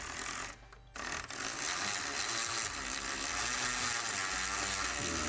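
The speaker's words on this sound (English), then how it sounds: "So the tightening process on the bolts now." Bolts are tightened on a body kit splitter of a gloss black BMW X5 G05 with a power tool, a continuous loud whirring mechanical buzz broken by a short pause near the start.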